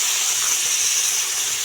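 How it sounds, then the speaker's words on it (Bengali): Spiced water poured into a pan of potatoes frying in spices gives a loud, steady hiss of sizzling steam that fills the whole short stretch without a break. "এখানে মশলার জলটাই দিচ্ছি"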